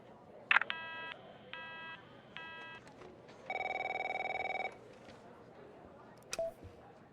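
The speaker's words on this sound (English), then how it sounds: "My phone's ringing off the hook here." A telephone in The Operator game rings in short repeated electronic trills, followed by a longer steady tone and a few brief beeps over a quiet background hum.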